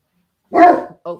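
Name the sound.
dog barking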